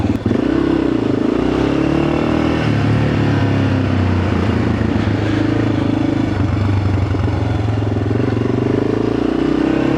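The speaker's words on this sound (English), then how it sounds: "I'm not happy with that idle." A Yamaha XT600 dual-sport motorcycle engine idles roughly and loudly up close, a steady uneven thumping drone whose pitch wavers and dips slightly throughout, with no talking.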